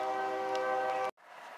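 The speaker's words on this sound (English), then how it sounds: "here comes the train" A train passes close by, its horn blaring in a loud, sustained multi-tone chord for about a second before cutting off abruptly, leaving a quieter rumbling hiss behind.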